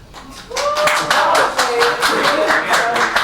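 An audience at a comedy show claps in quick, sharp bursts while voices shout and cheer over the applause for a contestant.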